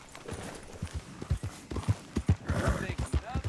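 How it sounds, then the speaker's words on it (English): Horse hooves clip-clop in a steady rhythm while riding in the video game Red Dead Redemption 2, moderately loud, with voices talking over the hoofbeats. "That horse don't listen."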